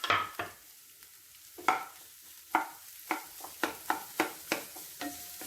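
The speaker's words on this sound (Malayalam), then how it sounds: "ഇതിലേക്ക് നമ്മൾ കട്ട് ചെയ്ത് വെച്ചേക്കുന്ന ഒനിയൻ ഉണ്ടല്ലോ, അതിട്ട് കൊടുക്കുകയാണ്." Chopped onion going into a pan where garlic is sautéing for a creamy garlic chicken, a faint sizzle under a series of sharp spoon clinks and scrapes, with stirring strokes coming faster toward the end.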